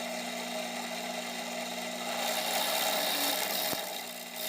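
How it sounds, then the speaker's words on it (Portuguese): A 1/4 inch drill bit boring a hole, to be tapped for an M8 thread, in a steady, even whirring drone that holds throughout with little change in level. "agora vamos passar uma broca de 1/4, que é para poder fazer a rosca M8 depois"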